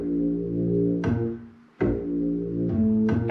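A synthesized virtual-instrument bass from a sequencing keyboard holds sustained low notes. It changes pitch at regular intervals, with a brief dip to near silence between phrases, and plays alone with no voices.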